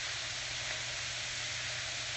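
Cabbage steams in a pot on the stove, giving a soft, constant hiss with a faint low hum beneath, steady and unbroken across the short span.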